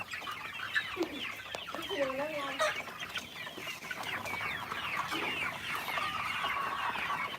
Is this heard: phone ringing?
no